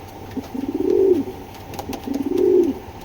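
Racing pigeons, a breeder pair, give two soft, rolling coos about a second and a half apart, close by over a faint background hum.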